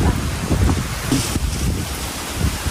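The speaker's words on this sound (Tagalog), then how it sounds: "Yung alon." Sea waves crash and wash steadily close by, a dense roaring surge with gusty wind buffeting the microphone throughout, on a fishing outing for large prawns.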